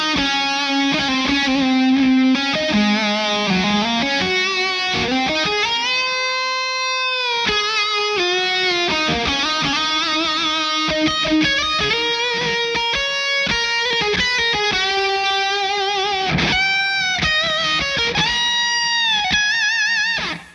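Distorted electric guitar lead lines ring out through a Victory V4 Kraken amp and Kraken 412 cabinet, sustained bending notes and fast runs played loud and continuous with no talking.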